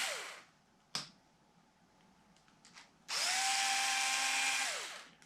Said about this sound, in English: I am perfectly alright with the drill